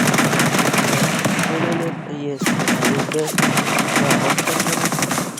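Repeated gunfire in a shooter video game, including revolver shots, rapid and loud throughout with a brief pause, and a voice talking underneath.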